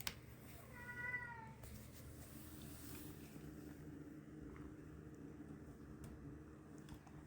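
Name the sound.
cat meowing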